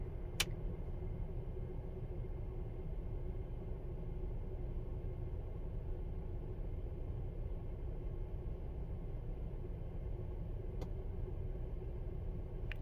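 A 2017 Volvo XC90 with a 2.0 supercharged turbo engine, running lean, idles with a steady low rumble and faint hum, heard close and continuous without talk.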